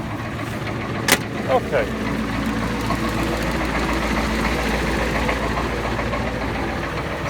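A truck engine idles steadily after a cold start, following two weeks of sitting, with a low continuous rumble and a few brief clanks near the start and a short spoken word over it.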